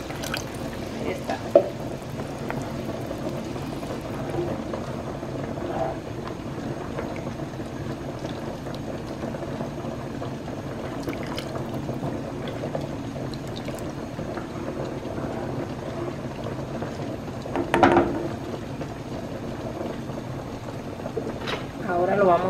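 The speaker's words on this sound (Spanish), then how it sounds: "Ahora lo vamos a tapar y lo vamos a dejar que hierva." Water coming to a boil in a covered pot of rice on the stove, giving a steady low bubbling and simmering hiss throughout with faint clinks, close and moderately quiet.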